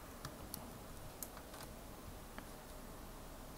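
Faint, distant keystrokes as ipconfig is typed on a computer keyboard, a few soft scattered clicks over a steady background hiss.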